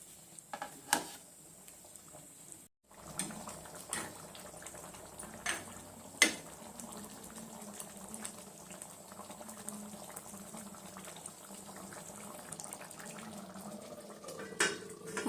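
Drumstick dry fish curry bubbles gently in a pot, a soft, steady simmer with occasional louder clinks of utensils against the pot, heard close and with no talking.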